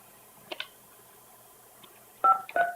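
Telephone keypad tones are dialed into a conference call at a county supervisors' meeting: a couple of faint early beeps, then two louder, clear DTMF tones close together near the end, with quiet room noise between.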